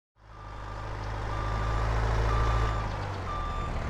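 A delivery lorry carrying seed and fertiliser reverses in Farming Simulator 22, its steady reversing beeps repeating over a loud, constant diesel engine rumble close by.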